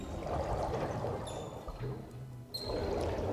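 In the city-building game SimCity, placing a water supply sets off a gushing, pouring water sound effect. The broad rush is fairly loud and steady, dips briefly in the middle, then swells again.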